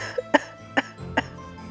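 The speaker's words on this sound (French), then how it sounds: "Alors je tousse." Three short, deliberate coughs at an even pace, close to the microphone, with a quiet pause after each.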